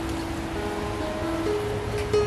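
Steady rain falling outdoors in Lombok, a continuous soft hiss with a faint tonal hum running through it and no voices.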